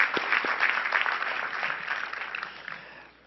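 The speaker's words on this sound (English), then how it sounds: "Round of applause for them." Brief applause from a commencement audience at a law school ceremony, a dense patter of clapping hands at moderate distance that gradually thins out over a few seconds.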